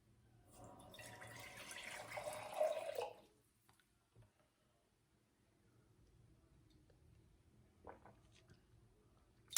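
Water gushes from a household tap after a plumbing repair that needed the system drained, a steady rushing flow that stops after about three seconds, followed by quiet with a few faint drips and small knocks.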